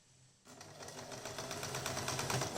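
Sewing machine stitching a blouse, starting abruptly after a brief quiet moment and then running as a fast, even mechanical whirr with rhythmic needle clatter, fairly soft and without speech.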